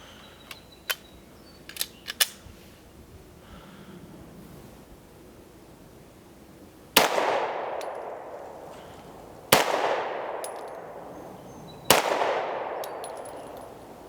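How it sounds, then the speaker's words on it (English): Walther PDP F pistol fired during an accuracy test, three loud sharp gunshots a couple of seconds apart, each ringing off in a long echoing tail, after a few faint clicks of handling. "I'm going to do my accuracy test with the PDP F"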